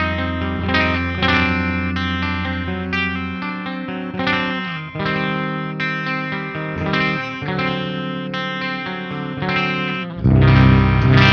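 Kiesel electric guitar on a clean amp channel, tuned to C standard, plays strummed chords and arpeggiated passages with chorus and reverb effects, loud and close, with a fuller low chord near the end and no talking.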